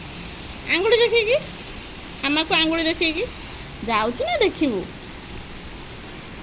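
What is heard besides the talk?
rain falling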